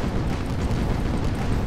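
A cannon volley explodes in the airship battle game Guns of Icarus, a dense, booming burst of low rumble that fills the short moment loudly.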